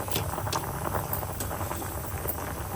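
Drumstick sambar simmers in a pot, a soft continuous bubbling hiss with faint pops, close but low and steady without voices.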